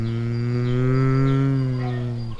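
A cow gives one long, loud, close moo that holds a steady low pitch for about two seconds before cutting off.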